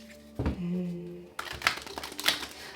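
A deck of tarot cards is shuffled by hand, a quick riffle of crisp papery ticks and rustles after a brief low hum, close and moderately loud.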